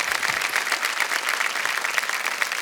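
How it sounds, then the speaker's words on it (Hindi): A studio audience at a TV quiz show applauds a contestant who has just won a large sum, dense steady clapping filling the room without pause and with little talk. "तालियां बज जाए इनके लिए"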